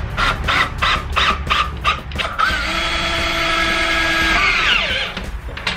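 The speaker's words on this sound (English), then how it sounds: "mark them, and drill my holes and get it installed" A power drill bores holes for D-ring tie-downs in a trailer nose, heard as a few short pulsed bursts followed by one longer sustained whirring run up close, then it spins down at the end.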